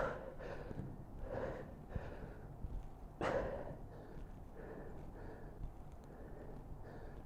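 Heavy, rhythmic breathing during a kettlebell leg workout at home: a series of close, effortful exhales and gasps at a steady pace, quiet overall, with one sharper breath partway through.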